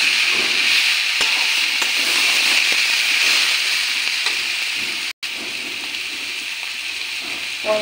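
Fried tomato, potato and soybean stirred together in a hot pan for a vegetarian cabbage dish, giving a loud, constant sizzle and hiss with a few faint scrapes and one brief dropout.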